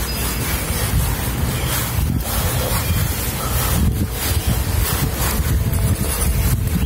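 Strong wind roars and buffets across the microphone on a boat on open water, a steady gusty rush with occasional louder blasts and no voices.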